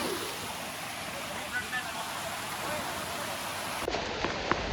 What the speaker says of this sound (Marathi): मित्रांनो भरपूर पाऊस चालू आहे इथं.